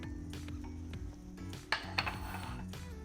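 A spoon scrapes and clinks against a metal pan while chopped cilantro is mixed into a cooked dish, giving a few sharp knocks over a low background hum.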